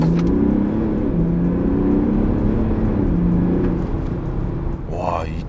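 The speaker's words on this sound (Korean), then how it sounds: "풀악셀 하나 둘 셋." A Mercedes GLE 400d Coupe in sport mode under full throttle, its diesel engine a loud, steady droning rumble that keeps building, with a voice over it.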